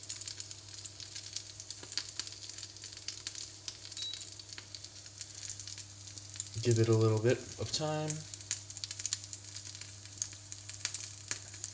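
French toast sizzles and fries in a hot pan with a steady, quiet crackle throughout. A brief louder burst of sputtering comes midway, and a voice speaks briefly over the frying.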